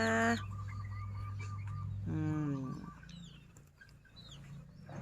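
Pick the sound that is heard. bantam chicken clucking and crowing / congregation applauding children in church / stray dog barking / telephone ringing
bantam chicken clucking and crowing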